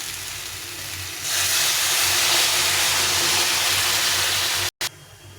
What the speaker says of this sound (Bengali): এখন আমি এখানে জল ফুটিয়ে রেখেছি জলটা দিয়ে দেবো